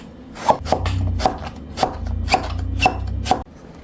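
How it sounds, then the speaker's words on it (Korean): A knife chops thickly through eggplant on the diagonal against a cutting board, about seven crisp, evenly spaced cuts, close and loud with no talking. "두툼하게 어슷 썰어요."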